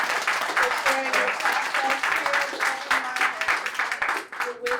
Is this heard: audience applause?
yes